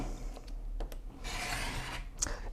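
Quilt fabric being trimmed along a ruler for half-square triangle blocks, soft scraping and rubbing strokes with a few small clicks, quiet and close, no talk.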